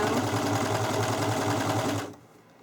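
A sewing machine stitches the edges and corners of fabric for a car seat canopy, whirring loudly and steadily up close for about two seconds before stopping abruptly.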